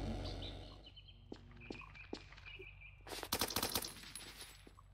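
Gunfire in Blackhawk Rescue Mission 5, a quiet scene with a few isolated shots and chirps, then a rapid burst of automatic fire near the end.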